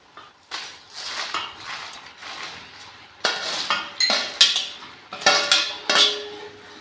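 Fried cauliflower being stirred into Gobi Manchurian sauce in a pan, with a series of close metal spoon scrapes and clinks against the pan, rhythmic bursts growing sharper toward the end, no voices.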